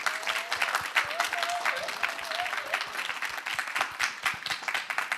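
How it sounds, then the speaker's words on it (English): A round of applause from students on the floor at a university book launch for creative media students, with steady clapping throughout and a faint voice rising above it partway through. "Can I hear a round of applause from our students on the floor here?"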